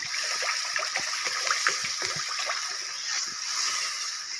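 Water pours and splashes steadily into a pan of mustard spice paste for a bata fish curry, a continuous close trickling and spattering without pause.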